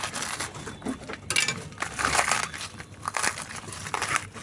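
Banana stem core being pulled out by hand from a rooftop-garden banana plant, a run of close, moist crunching and crackling snaps in uneven bursts, with no talking.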